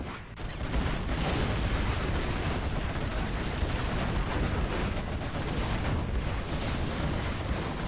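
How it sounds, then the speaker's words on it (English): A demolition trap detonates in the real-time strategy game Generals Zero Hour, a dense, steady rumbling roar of explosions and gunfire that fills the whole stretch without letting up. "One demo trap does detonate."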